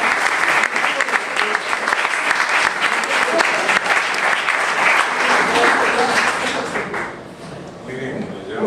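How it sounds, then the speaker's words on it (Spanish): A large audience claps at a ceremony, loud and continuous for several seconds before tapering off, with voices mixed in as it dies down. "Creo que el aplauso se lo merece."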